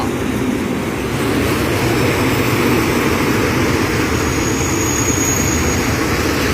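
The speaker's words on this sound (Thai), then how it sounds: "มาแล้วครับกับขบวนรถชานเมืองขบวนที่ 371 นะครับ" Suburban train no. 371, running from Bangkok to Prachinburi, passes a railway crossing on Romklao Road: a loud, steady roar and rumble of engine and wheels that holds without a break, with no one speaking.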